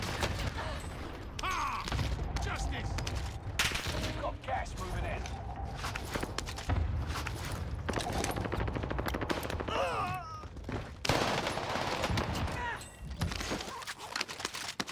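Gunfire from Call of Duty Warzone on Rebirth Island cracks out in repeated bursts and rattling volleys, mixed with footsteps and mechanical game noises at a fairly constant loud level.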